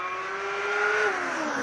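Formula Student race car at an acceleration event, engine held at high revs with a rising tone, then a gear change and the note climbing again as it pulls away, loud and close.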